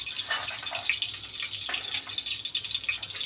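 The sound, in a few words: water sizzling off in hot ghee and oil in a kadai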